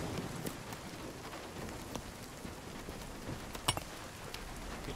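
A hailstorm in the survival game Nightingale, a steady dense patter of falling ice and rain filling the scene, with a few sharper nearby impacts standing out and no talking.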